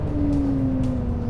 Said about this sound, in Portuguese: Travões a fundo aqui para a curva 2 do circuito